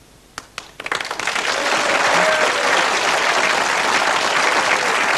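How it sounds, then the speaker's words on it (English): Recorded applause played back from a small store-bought product, a few sharp claps building into steady, dense clapping that stays loud and continuous to the end. "There you go. Applause."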